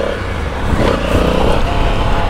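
Motorcycle riding past and accelerating, a loud, rough engine roar that swells in the middle of a short burst, with no talk over it.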